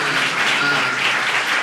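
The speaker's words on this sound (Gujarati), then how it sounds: "આપણે સૌ તાળીઓના ગડગડાટથી" An audience at a school science fair opening ceremony applauds, a dense, even wash of clapping from many hands that holds steady and fairly loud throughout, with no voices over it.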